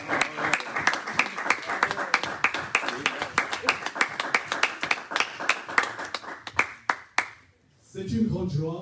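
A church congregation claps in a fast, steady rhythm, loud and close, then the clapping thins to a few claps and stops before a voice speaks at the end.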